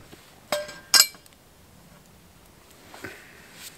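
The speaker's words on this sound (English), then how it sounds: "we're gonna test out the new frying pan" A new frying pan clinks at a campfire over hot coals, giving two sharp metallic knocks close together near the start and a fainter clink later, over quiet outdoor background.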